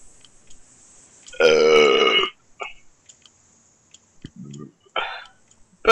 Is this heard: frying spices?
no